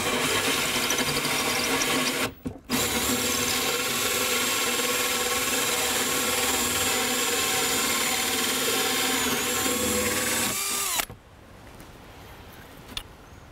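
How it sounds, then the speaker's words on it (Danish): A power drill bores a hole through a wooden board from the back side, running with a loud, steady whine for about eight seconds after a brief stop, then cutting off to quiet. "Og så borer jeg her fra den anden side."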